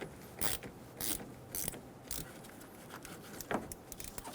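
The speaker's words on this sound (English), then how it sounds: "Using a 10mm socket, loosen the negative terminal for the battery." A ratchet with a 10mm socket loosens the negative battery terminal on a 2005-2015 Toyota Tacoma 2.7L four-cylinder, making several sharp clicking bursts at an uneven rhythm with quieter ticks between them, close and faint.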